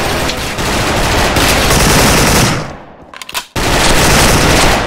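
Dense, loud sustained automatic fire from an AK74 Predator rifle in the online shooter Special Force, a continuous roar of rapid shots that briefly drops out near the end before resuming at full intensity.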